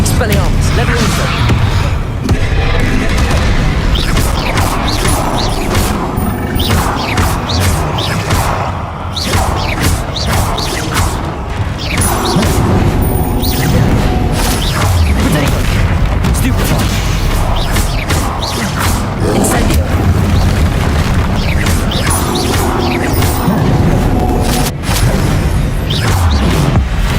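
Spell blasts and explosions from Hogwarts Legacy combat with Incendio, Expelliarmus and Levioso spells against a hulking brute, a dense, loud, continuous barrage of impacts, booms and whooshes, with a voice speaking over the din.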